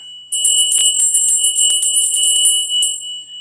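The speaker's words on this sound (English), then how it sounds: "we begin our rite by sounding our bell" A single bell rings out clearly to open a puja rite, with a bright, sustained metallic tone and a fast rhythmic tinkling shimmer that fades away over a few seconds, heard alone.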